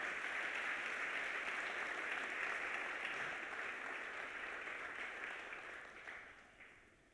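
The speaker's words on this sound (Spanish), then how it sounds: "Denle un aplauso al Señor, pues." A church congregation at a Spanish-language Sunday service claps together, a soft, distant wash of applause that stays even for several seconds, then gradually fades out.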